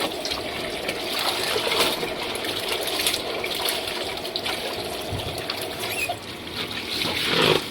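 Laundry tumbling in a dryer at a laundromat fills the clip with a steady, loud whooshing rumble that swells and dips slightly throughout, with no talk.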